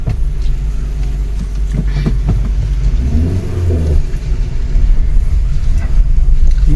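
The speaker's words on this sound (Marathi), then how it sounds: "आता आलेली स्कॉर्पिओ आपल्याकडं" A Mahindra Scorpio SUV's engine revs close by, a loud steady rumble that swells in pitch midway and stays strong throughout.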